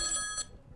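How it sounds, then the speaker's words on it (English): A telephone rings once on a comedy show, a short bright electronic trill that cuts off quickly, fairly close and alone. "Excuse me, I have to get the phone."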